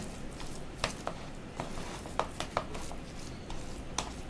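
Vada pav batter being mixed in a bowl, with soft scattered clicks and taps of a spoon against the dish over a low, steady background hiss. No one speaks.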